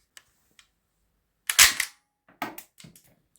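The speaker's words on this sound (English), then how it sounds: "One more successful shot." A cheap $5 toy Desert Eagle pistol fires a sharp plastic snap with a rattling mechanical clack, followed by a few smaller clicks and a second weaker crack, all close and otherwise quiet.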